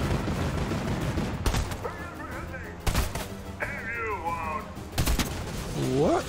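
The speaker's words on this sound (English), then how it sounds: "Bro, where am I getting shot from?" Fortnite gunfire in bursts of sharp shots, several loud cracks spread across the moment, mixed with game effects and a player's voice talking over the action.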